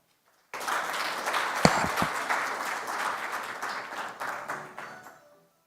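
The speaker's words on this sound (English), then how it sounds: "the Honorable Minister of State deserves a better round of applause" An audience at the launch of Rwanda's climate and nature finance strategy breaks into steady applause that starts abruptly, holds for about four seconds and tapers off.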